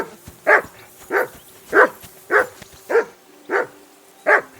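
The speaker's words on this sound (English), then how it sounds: "I assume you can hear that damn dog of yours barking." A dog barks in the medieval video game Kingdom Come: Deliverance 2, seven sharp, evenly spaced barks about half a second apart over a quiet background, with no one talking.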